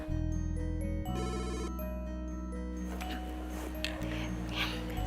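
An electronic telephone ringtone plays in an Indonesian TV drama office scene, a loud repeating melodic ring with steady low tones, then it fades into broadband background noise.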